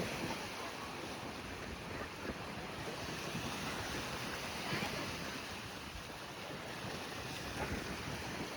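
Continuous roar of ocean surf washing in at Praia Barreiros beach in Galicia, Spain, mixed with heavy wind buffeting the microphone, with no speech.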